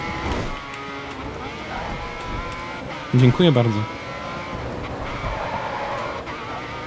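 A touring race car's engine drones and revs continuously in the racing game GRID 2, with a brief sharper burst midway, while someone talks over it.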